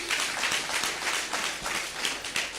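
A church congregation at a Sunday service claps for a singer, dense rhythmic applause from many hands filling a couple of seconds, steady and fairly loud.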